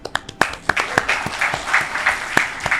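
An audience applauds doctors at a conversation event, with sharp, distinct claps close by over a softer bed of crowd applause in a brief steady burst.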